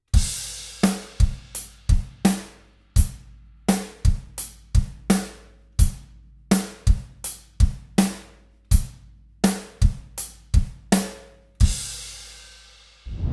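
Drum kit beat in quarter notes with the snare on 2 and 4 and the kick on 1 and the offbeats of 2 and 3, a steady, close, dry groove played alone and ending on a crash.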